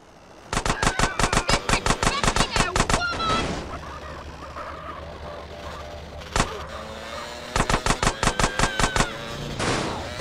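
Rapid automatic gunfire in GTA San Andreas The Definitive Edition: two loud, close bursts of evenly spaced shots, each lasting a few seconds, separated by a quieter stretch with a single sharp crack.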